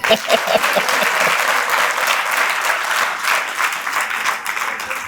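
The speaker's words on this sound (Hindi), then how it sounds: "जोर से ताली बजा दीजिए।" An audience at an annual celebration and foster-family gathering in Meerut applauds loudly, a dense, sustained clatter of many clapping hands that holds steady for the full stretch with no pause.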